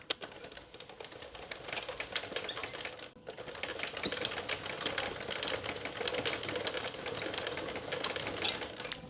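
Sentro knitting machine working rows of yarn, a continuous rapid clicking and clattering close by, steady throughout with a brief dip midway, no talking.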